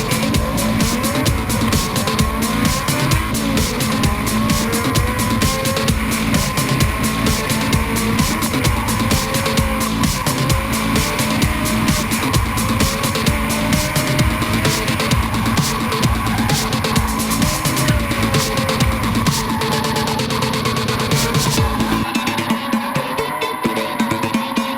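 Formula Drift Pro Championship cars drifting during round 5 in Seattle, 2011: loud continuous engine roar with sustained tire squeal and skidding, dense and unbroken for most of the stretch, no talk.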